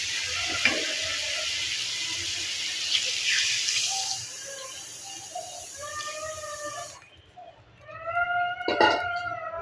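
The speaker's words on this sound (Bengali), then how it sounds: "পরিমাণ মতো পানি দিয়ে দেবো" Water poured into a pan of fried-down spice paste while cooking a stinging catfish and green banana curry, a quiet steady splashing sizzle with a few brief voice sounds near the end.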